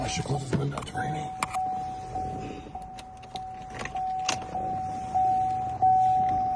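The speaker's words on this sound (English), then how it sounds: "I should close this window" A Chevy Camaro power window motor whirs steadily for several seconds as the glass closes on a rainy day, while keys jangle and a person talks over it.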